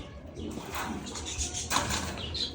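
Domestic pigeons cooing near a feeding spot, soft low coos blending with ambient outdoor noise, with faint murmuring voices in the background.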